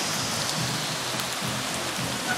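Light rain falls steadily outdoors, a soft, even patter with faint low thumps throughout, no voices.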